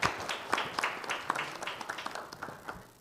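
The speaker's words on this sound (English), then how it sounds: "So let us have a big applause for our panelists." A modest audience at a ward councillor debate claps for the panelists, with distinct, scattered hand claps in an uneven rhythm that thin out and fade toward the end.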